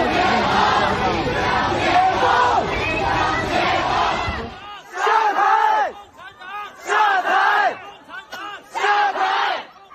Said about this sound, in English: The much reported, the headlines of everything is the shouting of down with Xi Jinping and down with the CCP.